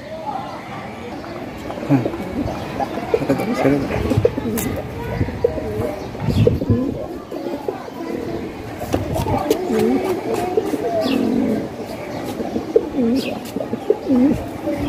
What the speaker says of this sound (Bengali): ও কে, এক জোড়া রানিং কবুতর, ভীষণ সুন্দর।